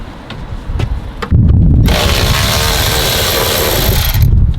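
Power tool unbolting a fender liner on a vehicle during a roll bar install, a loud sustained whirring and ratcheting run after a few sharp handling clicks.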